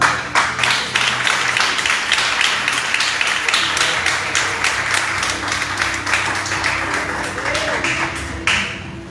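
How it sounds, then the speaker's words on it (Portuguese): An audience at a religious gathering claps in a fast, steady rhythm, loud and sustained for several seconds before the clapping thins out. "Palmas para Jesus."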